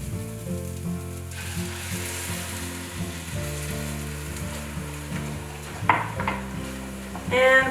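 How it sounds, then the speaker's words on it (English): Risotto rice toasting in a pot sizzles as a cup of white wine is poured in, frying steadily and close, with spoon stirring and clinks against the pot near the end. "Now I have 1 cup of white wine that I'm going to add."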